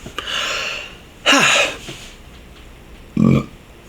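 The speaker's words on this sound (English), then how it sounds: "Again, we should count the burps." A person burps several times close by: one long belch, a stronger one that sinks in pitch, and a short low burp at the end, with quiet gaps between them.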